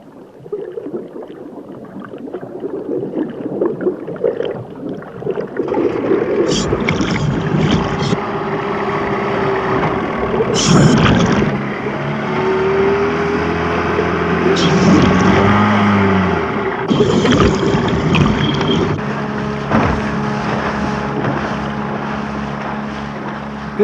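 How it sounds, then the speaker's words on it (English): Engine drone of high-speed pleasure motorboats rising and fading as they pass over water near otters, with wind buffeting the microphone and the motor pitch shifting as boats go by. "The increasing number of high-speed pleasure boats present a threat,"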